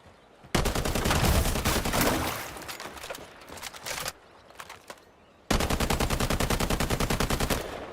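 Automatic gunfire in the shooter game Highguard, two long, loud, rapid bursts of shots with a few shorter shots between them.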